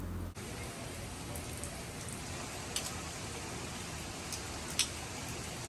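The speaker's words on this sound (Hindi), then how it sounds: "इसी तरह से अचानक बारिश शुरू हो जाती है" Rain falls steadily in Lahore, a constant soft hiss of drops with a few faint sharper ticks scattered through it and no talking.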